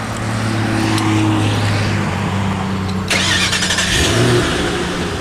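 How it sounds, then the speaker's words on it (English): A Shelby Cobra GT500 SVT convertible's engine runs loud and steady, its low rumble close by, then the revs climb sharply past the three-second mark and hold at a harsher, higher roar before easing slightly. "Fire it up."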